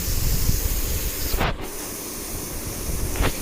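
A sharp sizzling hiss bursts up as dal (lentils) is poured into a hot pan of salted tomatoes, then settles into a steady background sizzle with a second brief hiss near the end.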